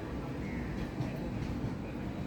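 The Rani Chinnamma Express from Bangalore to Sangli rolls into a station platform, a steady low rail rumble with faint wheel noise, distant and fairly quiet.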